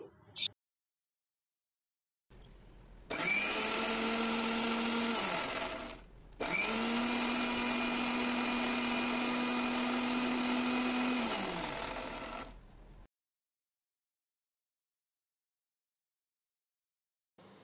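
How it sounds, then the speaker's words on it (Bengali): A kitchen blender whirs while blending boiled-egg mayonnaise, in two bursts about three and six seconds long separated by a brief pause, then stops, leaving silence. "এখন ব্লেন্ডারে খুব ভালোভাবে ব্লেন্ড করে নিচ্ছি"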